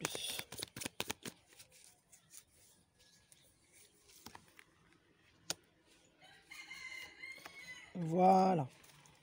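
Tarot cards shuffled in a rapid riffle of close crackling flicks, then a few sparse taps as a card is drawn, while a rooster crows in the background near the end.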